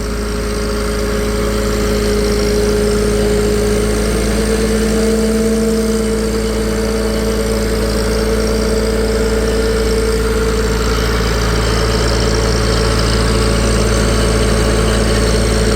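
Farmall C tractor engine running steadily on a dyno, a loud, continuous mid-pitched drone with a sustained hum throughout, no talk.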